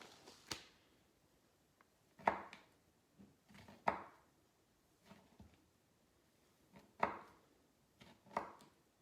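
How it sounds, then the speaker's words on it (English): A knife slices through a roll of carmelita dough in several distinct, separated cuts, each a soft thud onto a board, close and fairly quiet in a still room. "So I'm just slicing the roll."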